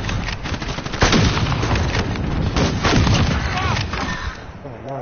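Dense Call of Duty combat: a grenade blast among rapid bursts of gunfire, loud and continuous with booming thuds and no pauses.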